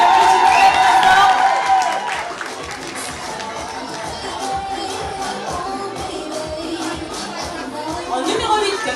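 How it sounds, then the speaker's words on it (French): An audience at a Miss East Africa beauty pageant evening applauds a contestant, a burst of clapping that quickly fades into crowd chatter and shuffling, with a voice speaking over the hall noise. "Jessica, on l'applaudit très très fort."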